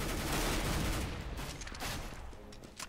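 Gunfire in the video game Counter-Strike: Global Offensive on the cs_assault map, a dense continuous barrage of shots that slowly thins out over a few seconds, with no talking.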